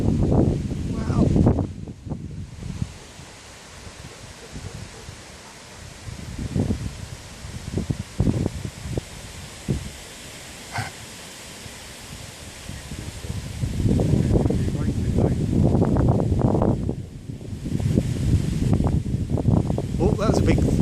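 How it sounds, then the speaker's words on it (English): Gusty wind roars across the microphone during a supercell thunderstorm in Benfleet, Essex, rising in loud surges at the start and again toward the end, with quieter rustling between and a person's voice exclaiming now and then. "It's getting ever so windy."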